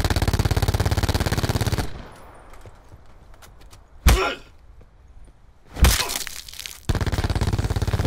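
Loud, sustained automatic gunfire in Call of Duty: Black Ops 4 fills the opening seconds and the closing stretch, with single sharp shots cracking through a quieter middle section.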